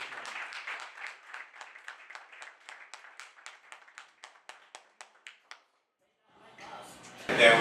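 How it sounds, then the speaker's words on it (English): Audience applause greets a man welcomed on stage at a company relaunch event, a small crowd clapping in an irregular burst that thins into separate spaced claps before stopping, followed by a short pause and a louder noisy rustle at the end. "Big round of applause"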